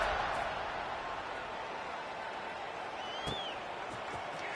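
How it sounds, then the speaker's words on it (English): A football stadium crowd keeps up a low, continuous buzzing murmur in the distance, with faint cheers and a brief whistle rising out of the roar. "this crowd is buzzing after that last score"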